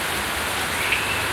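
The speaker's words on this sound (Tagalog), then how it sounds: "Yan, malakas ang ulan." Heavy rain pours steadily onto a terrace and a damaged roof in a village neighbourhood, a dense continuous hiss close by with no talk over it.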